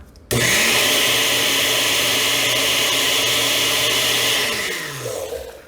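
A blender whirs loudly at high speed for several seconds, blending keto jalapeno popper chaffle batter with a steady motor drone, then winds down as it is switched off.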